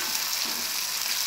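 Green chillies and onions sauté in hot oil, a steady close hiss of frying with faint stirring, brief and without talk.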